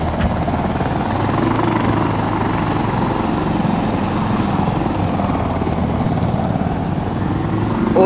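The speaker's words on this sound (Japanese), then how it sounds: "ヘリヘリ" A helicopter in the video game Insurgency Sandstorm produces a loud, steady rotor thump and engine roar that continues without a break for eight seconds.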